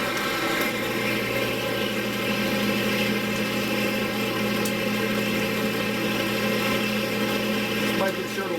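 A woodturning lathe runs at high speed with a resin-stabilized rotten wood blank spinning on it, producing a steady, even whir and hum that holds without a break, while someone talks over it.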